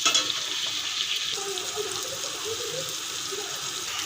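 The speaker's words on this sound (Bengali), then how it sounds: "দেখো সুন্দর লাল লাল করে ভেজে নিচ্ছি পটলগুলো" Pointed gourds (potol) frying in oil in a pan, a steady close sizzle with light crackle and occasional stirring, no voices.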